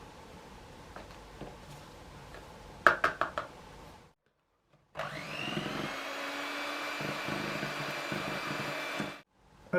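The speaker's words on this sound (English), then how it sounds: "Now whisk in the sugar." Sugar being whisked into sponge cake batter, a steady close whirring run of several seconds after a few sharp clinks and a brief pause, no talk.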